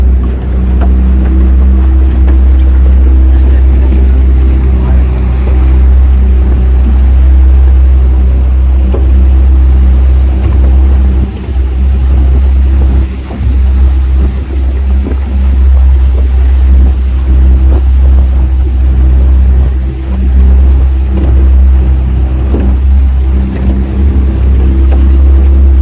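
A tour boat's motor drones loud and steady close by as it cruises the water around Dwejra on Gozo, Malta, with wash and spray noise over a heavy low rumble throughout.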